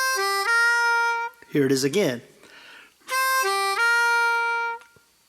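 Harmonica connector lick made of a 4 blow, a 3 blow and a 3-draw half-step bend. Two clear, close phrases of sustained reed notes, each ending with a stepped drop in pitch, are separated by a short spoken remark.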